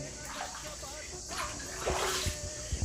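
Water trickling from a natural rock-cut spring cistern at Korigad hill fort near Lonavala, a steady wash of flowing water beneath a voice talking.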